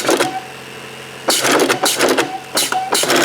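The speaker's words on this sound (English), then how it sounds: "sewing the thumb piece to the palm on a pair of Tuttles right now" An industrial sewing machine at a Vermont glove factory stitching a glove's thumb piece to the palm, running in three loud whirring bursts separated by short pauses.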